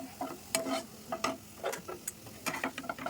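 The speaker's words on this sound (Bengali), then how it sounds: "এবার কিন্তু দিয়ে দেবো রসুন কুচিগুলো, দুটো কিন্তু আমি সুন্দর করে ভেজে নেবো" Chopped garlic and onion fry in a pan while being stirred, making soft sizzling under a run of scraping, clattering stirring strokes with no voices.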